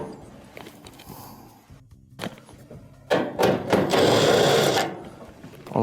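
Two 1/4-inch screws being removed from the heating element of an overheating dryer, heard as close mechanical whirring and buzzing with a thunk, rising to a loud sustained spin toward the end.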